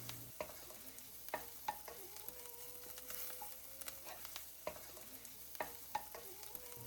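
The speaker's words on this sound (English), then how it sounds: "Then we'll add in a good pinch of chili flakes, as well as some oregano, and I'll just let that saute for another minute or so." Chickpeas with chili flakes and oregano sizzle quietly in a pan while a spoon stirs them, giving sharp intermittent scraping taps over a steady soft frying hiss.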